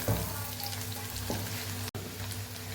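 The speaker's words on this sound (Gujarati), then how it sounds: "ડુંગળી પણ સરસ આપણે સાતળી લેશું, એકદમ મસ્ત કલર ચેન્જ થાય ત્યાં સુધી આપણે એને સાતળવાની છે" Sliced onions sautéing in a pan with a steady, soft sizzle throughout, quiet and close, with one brief cut partway through.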